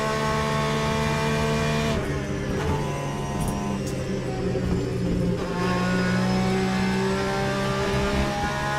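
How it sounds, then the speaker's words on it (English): A race car engine in the Le Mans Ultimate racing game runs loud and steady, its tone shifting with gear changes and revving across the lap, heard alone without talk. "God, I love how good this car sounds."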